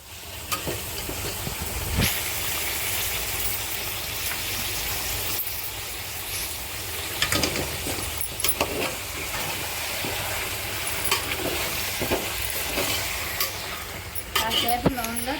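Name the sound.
chicken frying in oil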